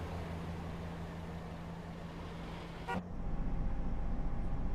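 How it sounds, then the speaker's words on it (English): A single short horn toot sounds in a simulated London railway setting during a Great Western Express train run, followed by a steady low rumble of the train. "Oh, was that honk there?"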